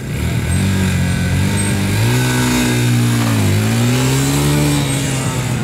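A Geon Pantera N200 motorcycle at a gymkhana competition revs loudly and steadily at close range, its pitch rising and dipping as the run begins.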